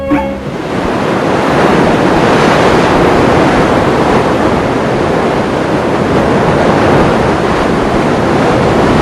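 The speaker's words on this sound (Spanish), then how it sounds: "El mar está allí mismo, aunque más abajo." Heavy sea surf breaking steadily at the foot of tall coastal cliffs, a loud continuous roar of waves with wind noise throughout and no voices.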